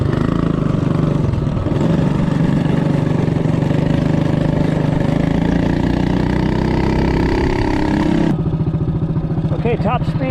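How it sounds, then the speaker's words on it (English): A Coleman CT200U-EX mini bike with a VM22 carburetor runs flat out at top speed, its engine droning loud and steady up close, then easing off near the end as a voice talks. "Okay, top speed, VM22 carb, CT200U-EX."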